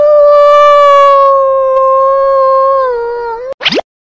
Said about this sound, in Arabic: عواء الذئب.